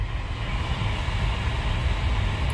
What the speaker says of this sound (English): it's quite a noisy video this time with the trains next to us